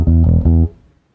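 A bass guitar plays a short blues motif of root and minor-seventh notes over the final bar of a twelve-bar blues, two firm plucked low notes ringing and then fading out, no voices.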